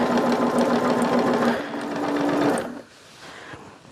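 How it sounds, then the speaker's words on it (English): A sewing machine stitches binding onto a quilt with a fast, close mechanical whir that changes pitch partway through and stops near the end, leaving quieter handling noise. "We're going to sew down just about another 6 inches,"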